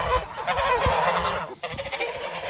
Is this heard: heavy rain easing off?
no